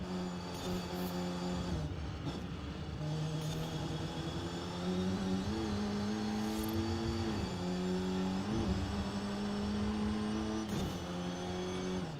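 Racing car in Forza Horizon braking hard through two heavy corners and swinging around on the handbrake, the steady engine drone dipping and sliding in pitch as speed bleeds off, with no talk over it.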